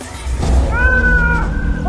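A Kittosaurlia monster from a video game gives a loud, warbling, cat-like yowl with rising and falling tones over a dense, rumbling background.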